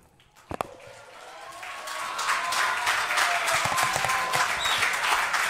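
A television studio audience breaks into applause, starting with a few isolated claps and building into dense, sustained clapping that stays steady to the end.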